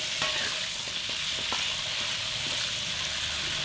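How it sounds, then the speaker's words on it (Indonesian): Jengkol (dogfruit), unpeeled, frying in hot oil in a wok, a steady loud sizzle with occasional light clicks and stirring knocks, continuous and close with no talking. "Nah ini dilanjut lagi saya goreng"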